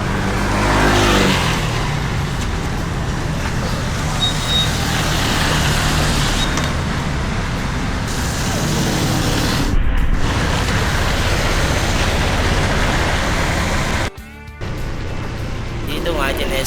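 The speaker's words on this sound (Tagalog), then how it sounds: "Dito nga, tinest drive ko na yung motor." A motorcycle engine runs on a test drive after repair work in Palanan, a continuous loud drone with rising revs and heavy wind rumble, briefly interrupted near the end.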